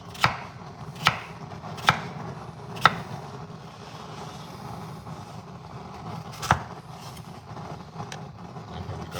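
A kitchen knife chops potatoes on a cutting board in sharp, separate strokes, about half a dozen spread over the stretch. A steady background hum sits underneath, and no one speaks.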